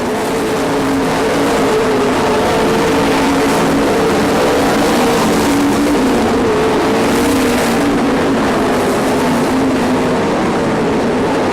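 Race cars roar around a dirt track during a heat race, a loud continuous wall of engine noise from several cars at once, steady and close with no break.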